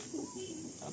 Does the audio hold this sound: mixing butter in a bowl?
no